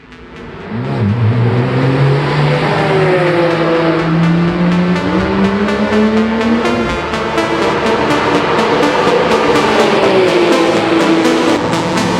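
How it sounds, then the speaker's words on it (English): Porsche race cars speeding past at the Red Bull Ring in Austria, loud engine whine rising and falling through gear changes as the cars pass close by, a sustained roar with no talk. "After seeing Porsches shoot past us"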